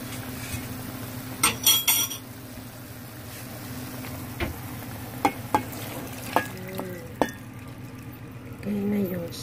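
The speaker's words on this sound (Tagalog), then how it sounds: "Ilagay na natin yung sauce." Sauce poured into a pot of braised pork ribs simmering with pears, with a few sharp utensil clinks against the pot, then soft bubbling and stirring noise close by.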